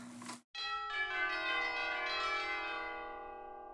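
Orchestral tubular bells from a sample library, a single bright strike with a rich ringing tone that sustains and slowly fades, heard alone.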